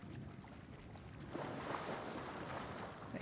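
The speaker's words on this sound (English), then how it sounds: "I hear it splish splashing." Steady rushing water in the video game House of Ashes sloshes and splashes continuously at a low level, with no voices.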